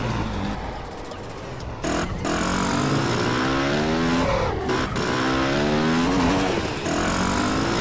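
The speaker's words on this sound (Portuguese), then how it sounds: "o caminhão dá uma aceleradona" A truck engine revving hard and accelerating in GTA San Andreas during night deliveries, rising and falling gear-change whines over a loud steady motor rumble, with a brief dropout near 2 seconds.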